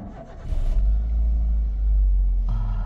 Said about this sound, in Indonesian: Kita akan hidupin ya mobil ini ya.